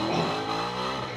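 A loud car revs hard beside a motorbike on the street, a brief harsh engine roar with rising and falling pitch, close and alone.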